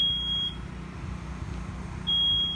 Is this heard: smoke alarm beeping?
yes